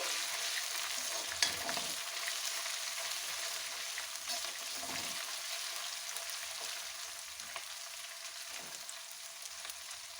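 Ground ginger sizzling in a pan for a Punjabi-style cauliflower and carrot pickle, a steady, bright crackling fry running continuously, close and unbroken, with occasional faint stirring scrapes and no talking.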